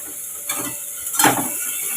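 A dish with ground peanuts and sugar frying in a pan, a steady hiss under a couple of brief scraping stirs, close and moderately loud.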